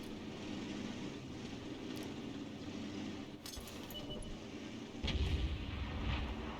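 A GW Tiger self-propelled artillery gun in World of Tanks fires, a deep low boom at about five seconds over a steady rumbling battlefield ambience, with faint metallic clinks before it.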